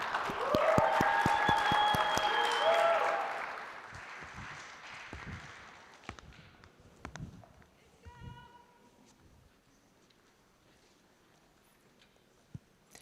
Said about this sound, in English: Please give me a round of applause for DesignFlow AI.